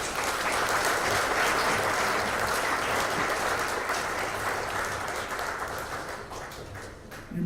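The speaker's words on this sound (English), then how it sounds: "A round of applause for them, please." Dense, sustained audience applause fills the hall at the opening session of an Integrated Partners Forum in Fiji, loud and steady before tapering toward the end.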